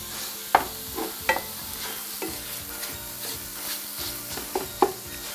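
Sweet and hot sausage browning in a skillet, a steady close sizzle punctuated by several sharp spatula clicks and scrapes as the meat is stirred, with no voices.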